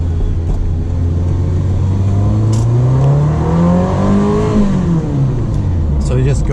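A 1989 Ferrari Mondial T coupe accelerates in second gear, its engine note rising steadily in pitch to a peak, then dropping away as it eases off, loud and continuous from inside the car.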